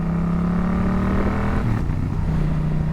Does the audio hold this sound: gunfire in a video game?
no